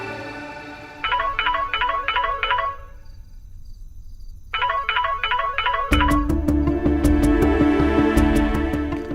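A telephone rings during a call in a Hindi TV drama: a loud electronic ringtone plays in repeated bursts of rapid trilling, pauses, repeats, then gives way to a denser, continuous ringing pattern, with no voices.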